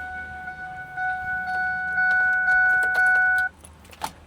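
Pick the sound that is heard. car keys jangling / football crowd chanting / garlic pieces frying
car keys jangling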